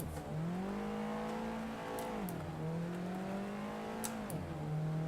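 Race car engine from the Assetto Corsa sim lapping a track with lowered rear toe, holding a steady mid-range drone with two clear lift-and-reaccelerate dips as it shifts and brakes, loud and continuous with no voices.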